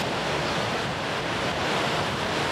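Strong ocean surf pounds the shore at a Sunshine Coast beach known for its big waves, a loud, steady roar of breaking water with wind buffeting the microphone throughout.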